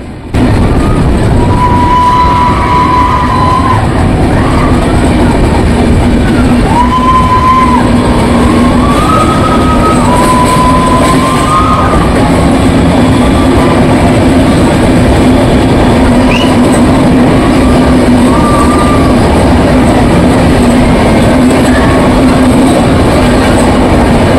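The Visakhapatnam to Araku train rumbles steadily along the tracks as it enters a tunnel, loud and close throughout, with a constant rolling roar and occasional higher squeals from the wheels.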